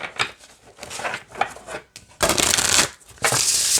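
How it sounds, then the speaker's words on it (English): Oracle cards shuffled side by side give soft riffling flicks, then two loud, dense bursts of cards snapping together back to back, close and crisp with no talking. "So I'm going to try to shuffle it side by side."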